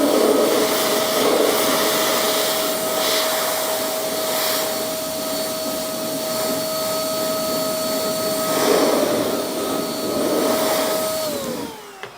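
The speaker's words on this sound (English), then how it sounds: "Let's take some forced air and see how easy it is or how hard it is to dry." A forced-air blower drying a car tire treated with a Turtle Wax acrylic/ceramic tire coating, a loud, steady whooshing whine held close throughout that winds down at the very end.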